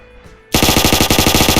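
Rapid automatic gunfire from a Minecraft roleplay mod on a version 1.7.10 server bursts in suddenly after quiet, a loud, close, evenly spaced string of about fifteen shots.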